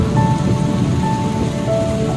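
Heavy rain pours at Thenmala dam, a dense steady hiss of drops close by with a low rumble beneath, with no voices.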